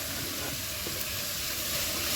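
Carrots and beans frying in a pan for a vegetable biryani give a steady, close broadband sizzle with no break, hissing on its own with no voices over it.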